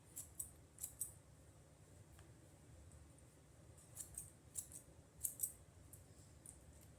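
Scissors snip through wig hair in small clusters of crisp, close metallic cuts, with pauses between bursts over a low steady background hum.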